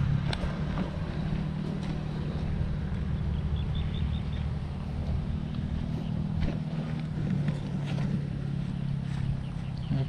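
A motor running steadily during a fishing trip, a low continuous drone close by with rough wind buffeting over it and no pauses.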